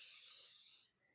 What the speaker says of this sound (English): We're going to spray this down.